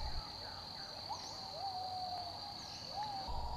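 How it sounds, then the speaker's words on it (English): A female Buffy fish owl calls in Khao Yai National Park, Thailand, giving faint, rising hoot-like notes over a steady high insect drone in a still forest. "This statuesque creature is a female Buffy fish owl."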